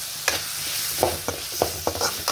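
Ground masala fries in a pan for fish fry, giving a steady close sizzle broken by several scraping stirs of a spoon.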